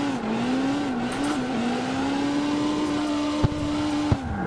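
Toyota AE86 engine in the street racing game CarX Street, holding a steady, strained drone at high revs with a slight rise and fall in pitch, loud and continuous, with two brief clicks near the end.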